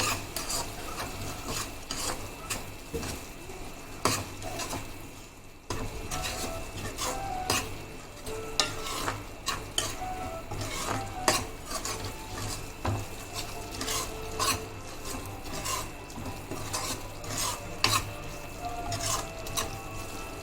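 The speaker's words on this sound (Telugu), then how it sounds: "ఒకసారి కలిపేసుకుందాం." A spoon scrapes and stirs tomato egg curry in a metal pan, giving steady rasping and clinking strokes with a soft sizzle underneath, close and continuous with no one talking.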